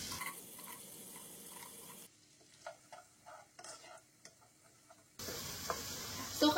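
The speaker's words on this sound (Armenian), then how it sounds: "Սոխը տապակում ենք մինչև մի փոքր թափանցիկ դառնա" Medium-cut onions fry in oil in a pot, giving a soft, steady sizzle broken by scrapes and taps of stirring. The sound is fairly quiet and close, and no one speaks.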